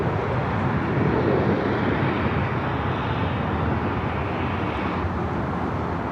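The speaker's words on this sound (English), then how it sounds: "A320neo Avianca coming in from Guatemala City, Flight 640, just touching down here on the" An Avianca Airbus A320neo touching down at LAX, a steady broad roar of jet engines and rushing air holding loud and continuous throughout, with no voices.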